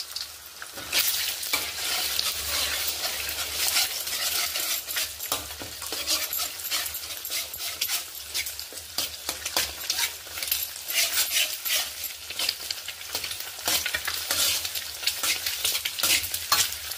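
Eggs frying in hot oil in a pan for egg fried rice, a continuous bright sizzle with repeated scraping and stirring strokes of a utensil throughout.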